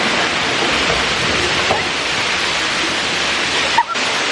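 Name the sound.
waterfall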